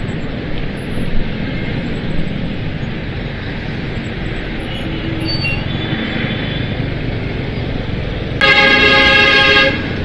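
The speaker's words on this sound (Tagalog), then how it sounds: "grabe na traffic na" Busy road traffic rumbles steadily throughout, then a loud car horn blares near the end for more than a second, with no talk.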